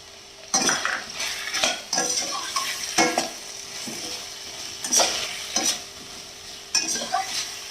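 Fish masala stirred and fried in a pan, with repeated bursts of scraping and metal clinks from a spoon against the pan over a low sizzle, close and intermittent, and no talking.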